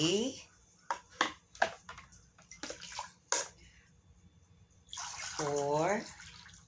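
Warm water is poured from cups into a blender for paper mache, in short splashing pours followed by a longer gurgling pour, with a person talking between them.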